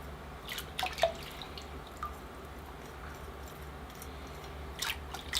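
Soft drips and wet squishing as water runs through bonsai roots being washed free of soil in a greenhouse, quiet and close, with scattered light splashes over a low steady background.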